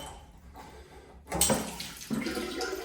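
Residual water splashes and pours out of a wall-mounted toilet's flushometer, starting with a burst and then a second gush, trickling close by in a quiet room.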